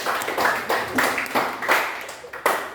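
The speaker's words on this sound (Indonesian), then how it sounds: "tepuk tangan." A small classroom group claps together in a few uneven bursts, close and moderately loud, with brief gaps between rounds.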